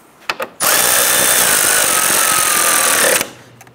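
A power tool drives screws into plastic trim on a 2011-2019 Ford Explorer front grille, a few faint clicks then one steady, loud, close whir lasting about two and a half seconds before stopping.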